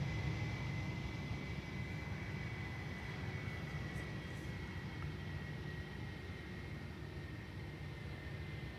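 A wide-body airliner on approach to Schiphol's Polderbaan runway gives off a distant, even engine roar with a faint whine, a low sustained drone that holds steady for several seconds with no voices.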